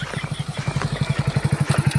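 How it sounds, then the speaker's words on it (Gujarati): A motorcycle engine close by, its rapid regular low thumping pulses steady and loud, growing slightly stronger as it approaches, with no talking. "ક્યાંકનું બાઈક આવે છે"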